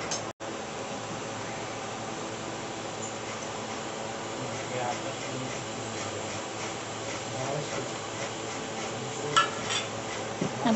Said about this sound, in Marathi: आता हे दोन्हीसुद्धा आपण या मिश्रणात घालून ते एकजीव करून घेणार आहोत चांगलं